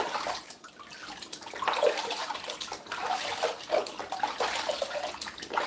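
Water splashes and sloshes as fruit, including Granny Smith apples, is washed for green juice; the stream is close and uneven, with bursts of spatter throughout.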